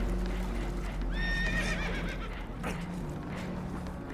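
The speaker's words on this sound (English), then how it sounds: "Horses are spooked, and we're taking on water." In Red Dead Redemption II, spooked horses on a boat taking on water whinny shrilly over a constant low rumble, one long neigh rising and falling, with clopping hooves and shuffling underneath.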